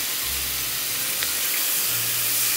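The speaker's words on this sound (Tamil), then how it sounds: "லைட்டாக கொஞ்சம் தண்ணி ஊற்றி இதுக்கு" Water poured into a cooking pan while making Kerala-style chicken palandi, a steady broadband wash of running liquid lasting a couple of seconds, with a low hum underneath.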